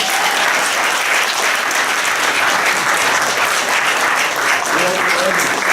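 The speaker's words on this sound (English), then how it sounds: "Another round of applause, please, for a true hero." Loud, continuous applause from wedding guests for a speaker, dense clapping filling the room with faint crowd voices mixed in near the end.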